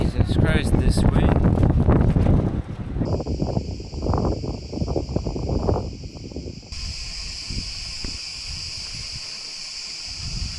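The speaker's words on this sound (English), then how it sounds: "Jesus Christ, this wind." Strong wind roars across the microphone on an open cycling road during a long-distance race, a loud continuous rumbling gust that eases later while a steady high insect-like drone sets in.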